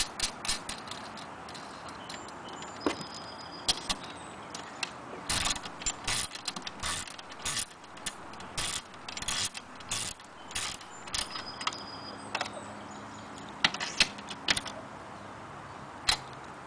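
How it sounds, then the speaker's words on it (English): A deep well socket ratchet tightens bolts on a Harbor Freight solar module racking clamp, giving close, irregular clicking and ticking with scattered metallic clanks throughout. "Make sure you have a deep well socket."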